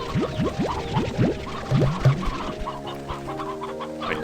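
Old chickens in Slime Rancher 2 give a rapid run of clucks, then a couple of lower squawks, loud and near over a sustained musical backdrop that carries on after the birds fall quiet.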